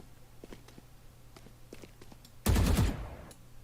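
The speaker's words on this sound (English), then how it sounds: "I shoot some shots mid" A few soft, scattered shots and taps in the Valorant video game, then one louder, sharper burst of gunfire near the end, brief and fairly close against a low, quiet background.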